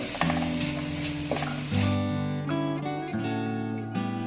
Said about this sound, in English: And now we'll fry these onions till they're translucent,